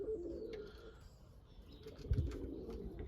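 Breeding pigeons give soft, low coos in their loft, faint and somewhat distant, with a brief rustle or flutter near the end.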